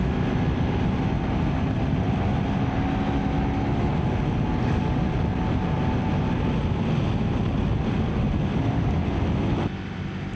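KTM Adventure 390 R motorcycle engine while riding, a steady droning hum buried under heavy wind rush throughout, with a slight drop near the end.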